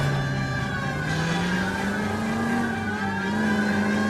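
A car in L.A. Noire races through a chase, its engine droning steadily and rising in pitch as it accelerates, with tire skid noise layered over the continuous loud motor.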